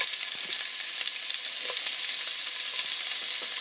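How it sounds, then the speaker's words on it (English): Peppers and onions sizzle and fry in a hot pan with sofrito, a constant close crackling hiss with small pops and occasional stirring, no voices. "I'm going to add my peppers and onions."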